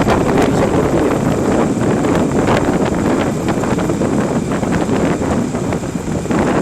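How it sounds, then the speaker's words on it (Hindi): Strong wind buffets a motorbike riding at night on the road from Shakhupura to Faisalabad, a steady loud roar of wind noise with gusting rustle filling the whole stretch, no voices. "बाइक को हवा धकेल के लेफ़्ट साइड पर कर रही है, बहुत शदीद है।"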